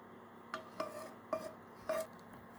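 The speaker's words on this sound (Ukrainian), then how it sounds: "Добре все перемішуємо. Дуже гарно розмішуємо" A spoon clinks against a bowl four times while garlic, beans and carrot are stirred together for a homemade bean pâté; quiet, spaced knocks over a faint room hush, no voices.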